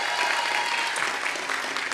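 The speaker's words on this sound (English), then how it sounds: "so let's give them an applause." Applause at a UCSB commencement ceremony, a large crowd clapping in a dense, continuous wash that holds steady throughout and stands alone with no talk over it.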